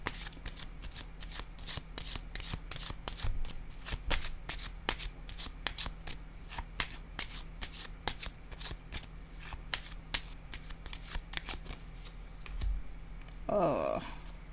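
Tarot cards are shuffled in rapid, crisp riffling bursts and flicked out one at a time, close to the microphone, with a soft voice breaking in near the end.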